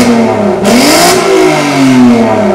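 A Volkswagen Golf 5 R32 engine revs close up, rising in pitch and falling back in a couple of sharp, loud throttle blips over a rumbling idle.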